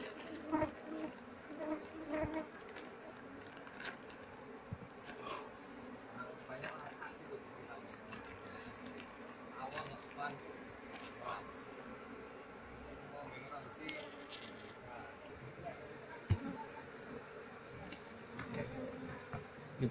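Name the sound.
honey bees buzzing during harvest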